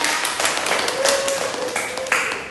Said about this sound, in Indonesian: tepuk tangan untuk Mbak Febian